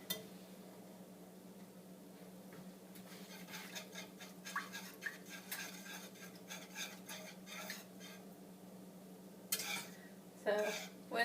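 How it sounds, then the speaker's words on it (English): Metal whisk scraping and clinking in a pot of melting cheese for healthy mac and cheese, soft irregular stirring and tapping at close range over a low steady hum, a few louder clanks near the end. "So whisking it until it starts to melt all together."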